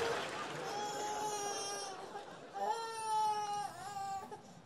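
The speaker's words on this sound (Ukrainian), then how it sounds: "Дитина плаче, що ти спиш?" A baby cries and wails continuously with rising and falling sobs, fairly faint, over a murmuring background of people.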